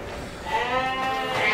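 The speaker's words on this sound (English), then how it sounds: "Hey, goats." Goats in a pen bleat in a drawn-out, wavering call, loud and close, with a second voice rising toward the end and no talking.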